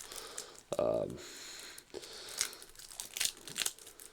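Trading card booster pack wrapper torn open and crinkled by hand at a worktable, close crackling and rustling bursts amid talk.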